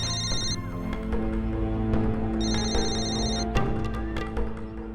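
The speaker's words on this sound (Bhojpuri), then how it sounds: "मिनट, फोन आया।" A telephone rings with repeated bursts of electronic trilling, fairly clear, over a low steady hum.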